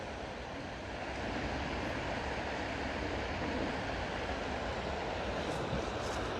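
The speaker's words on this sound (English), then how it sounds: "this is becoming such a giant waterfall with such flow coming over it today" Heavy water from a large waterfall, swollen by recent rain and melting ice, pours as a steady, loud broadband roar that builds slightly after the first second and then holds evenly, with no talking.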